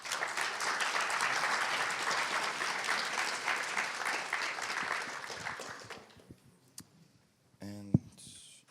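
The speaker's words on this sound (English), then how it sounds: "Can I have a round of applause?" Audience at the PyCon Balkan 2018 programming conference claps steadily for two presenters, a dense round of applause lasting about six seconds before fading, followed by quiet room noise, a few clicks and a short burst of sound.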